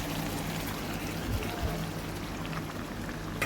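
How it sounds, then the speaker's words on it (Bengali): Boiled bottle gourd is tipped into a pot of simmering mutton curry, a wet pouring splash with a couple of soft plops over a constant bubbling background. "এবার আমি এই সেদ্ধ করা লাউটা এটার মধ্যে দিয়ে দেব।"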